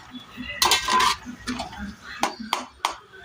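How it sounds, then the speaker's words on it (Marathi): Potatoes dropping into a pan of fried yogurt for dum aloo, with metallic clinks and scrapes of a spoon against the pan, a few sharp knocks near the end, close by with a voice talking at times. "आता बटाटे टाकायचे. आपले बटाटे त्याच्यामध्ये जातील"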